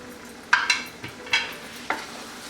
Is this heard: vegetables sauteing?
yes